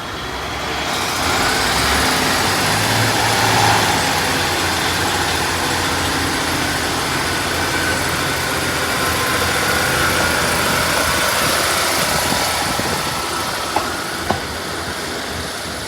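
A train sits at Sheffield station waiting to depart, its engine idling in a steady, loud rumble with a constant hum that goes on throughout.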